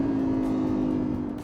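An Audi R8 Performance Spyder with a V10 engine downshifts with its valves open, a loud, steady, droning engine note held close up that eases off slightly at the end.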